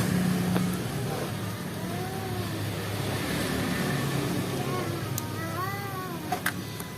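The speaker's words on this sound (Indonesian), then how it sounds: "Oh iya, coba sama injak gas." A Honda Mobilio engine with an uncleaned throttle body at 60,000 km and an RPM drop runs with a steady close hum and no clear rise in revs. Faint chirps and squeaks sound over it.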